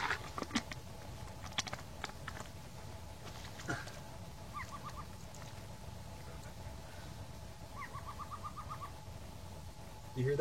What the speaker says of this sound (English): That bird's laughing at you.